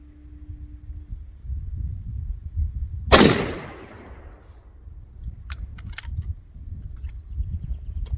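A Sulun SS211 shotgun with a Primos Tightwad choke fires a turkey load outdoors, one sharp loud blast followed by a decaying echo, then faint clicks of handling.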